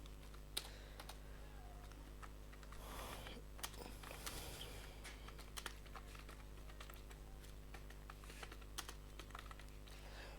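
HTML code being typed on a computer keyboard, with soft, fairly faint key clicks in an irregular rhythm over a low steady hum, no voices.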